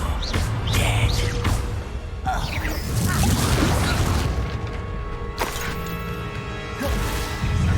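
Confringo fire spells exploding during combat in Hogwarts Legacy, with repeated loud booms and crashing impacts over dense game effects, about eight seconds of continuous battle noise with brief vocal bits.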